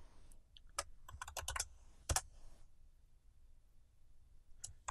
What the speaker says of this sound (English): And they type in sudo.